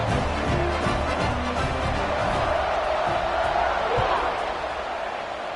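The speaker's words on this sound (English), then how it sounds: "this crowd is buzzing after that last score" A football stadium crowd buzzing after a score, a loud continuous roar of many voices with cheers, overlaid by a commentator talking throughout.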